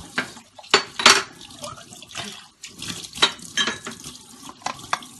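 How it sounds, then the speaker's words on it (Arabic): Dishes being rinsed in a kitchen sink under running tap water, with clattering pots, plates and cutlery in irregular bursts, close and fairly quiet, no talking. "هكمل بقى الحوض ونشوف الكميه اللي انا شطفتها قد ايه"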